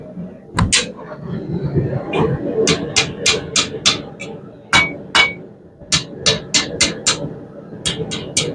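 Hand hammer blows on hot steel while a hook is forged for a campfire cooking tripod: a series of sharp, ringing metallic strikes, irregular then in quick rhythmic bursts, close and loud over low workshop noise.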